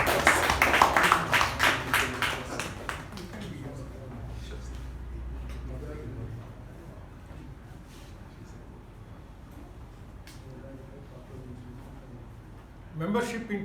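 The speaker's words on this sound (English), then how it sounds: "With a nice round of applause." A brief round of applause at a Toastmasters meeting, a short burst of clapping from a small group that quickly fades into quiet room tone.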